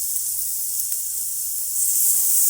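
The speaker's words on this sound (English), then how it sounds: "Ooh, nice sizzle." Burger patties sizzle loudly on a hot griddle, a steady bright hiss that swells slightly toward the end, heard close with no speech.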